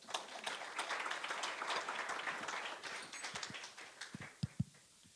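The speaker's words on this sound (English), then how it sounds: "And a round of applause for that, please." Applause from a panel-session audience, a fairly faint spread of many hands clapping that swells for about three seconds, then thins out to a few scattered, louder individual claps near the end.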